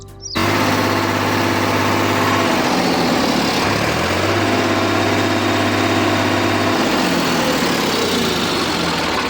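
A 2019 Sonalika DI 745 tractor with about 3,200 hours and multi PTO runs at a steady idle after a brief start. Its loud, throbbing engine note holds close and continuous, with slight shifts in pitch.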